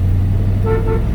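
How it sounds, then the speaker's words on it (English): A 1966 Mustang coupe's horn gives a short toot over the low idling rumble of its 289 V8, close and clear. "Horn works."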